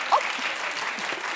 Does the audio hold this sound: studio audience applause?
yes